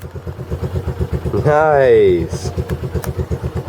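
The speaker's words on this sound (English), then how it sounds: "It's a Honda. She's idling." A Honda 125 motorcycle engine idles close by with a steady, rhythmic low putter throughout, while a voice speaks briefly over it and a rising whistle-like tone sweeps up midway.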